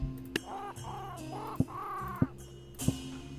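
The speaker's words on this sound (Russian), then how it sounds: "Давайте ворон." Crows cawing in the battle game Totally Accurate Battle Simulator, a series of harsh, drawn-out caws amid sharp impact clicks, fairly close, with no talking.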